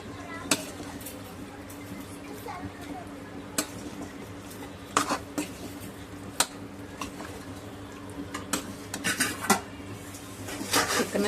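Chicken sautéed in masala in a pan for a chicken curry: a spoon scrapes and clinks against the pan in irregular close taps over a steady sizzle, with no clear speech.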